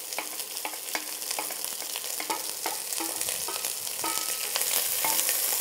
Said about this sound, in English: So at this point, I'm just going to add in my onions.